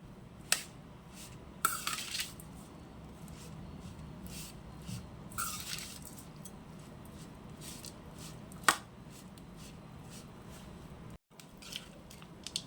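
Chopped coriander leaves mixed into a quick sprouts tiffin dish with salt and lemon juice, giving soft scattered scraping and clicking of a spoon against the bowl, quiet and close, with a few sharper taps.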